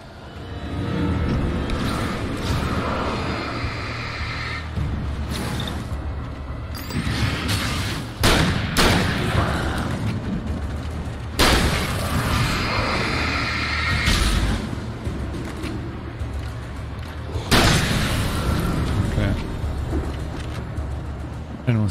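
Gunfire and heavy explosions in the Alan Wake video game, a continuous loud barrage of repeated shots and booming blasts with several sharp bursts throughout.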